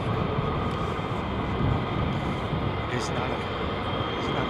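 F-15 fighter jet engine roar, continuous and loud, a dense broadband rush that stays level throughout with slight swells.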